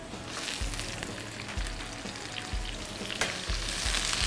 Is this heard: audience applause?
no